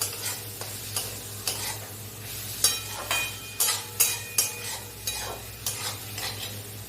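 Spices with turmeric powder fry in a pan while a spoon stirs and scrapes, giving irregular clinks and scrapes over a soft continuous sizzle, close and fairly quiet.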